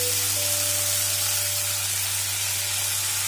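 Tomatoes with cumin, chili and turmeric sizzling and frying in a pan for an onion-free methi matar malai, a steady loud hiss throughout with a constant low hum underneath.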